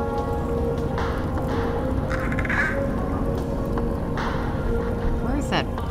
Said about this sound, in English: Where is that bird?